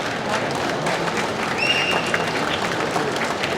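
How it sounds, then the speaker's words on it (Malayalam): Audience applause at a film pre-release event: a steady, dense wash of many hands clapping together, loud and sustained for the whole stretch with no pauses. "അതിനും ഒരു വലിയ കയ്യടി നിങ്ങൾ പ്ലീസ്."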